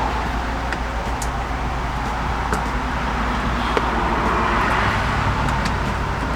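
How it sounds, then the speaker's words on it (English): Steady road traffic noise from passing cars and a bus runs beside an RV, a constant loud broadband rumble throughout with small passing surges and no clear speech. "we're a little noisy over here. Got a lot of traffic"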